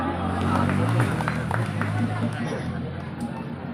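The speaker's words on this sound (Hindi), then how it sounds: "जोरदार तालियों से" A crowd at a free eye-test camp for elderly people claps in uneven bursts amid voices and general chatter.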